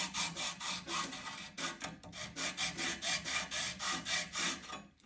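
A brass nut for a Fodera Victor Wooten Monarch bass guitar is rubbed back and forth over sandpaper in quick, regular strokes, a close, steady rasping rhythm with no speech.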